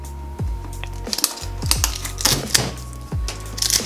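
A cardboard box for toy warrior figures torn open by hand along its perforated tab, a run of close, sharp ripping and crackling bursts with brief pauses between pulls.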